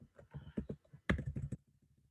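A computer keyboard is typed on in a quick, close burst of keystrokes, then one louder cluster of clicks followed by a few lighter taps that trail off, with no talking over it.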